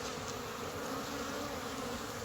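Honeybees on an orientation flight outside a wild hive in spring, a dense, continuous buzzing drone from many insects close by, steady throughout with no voices.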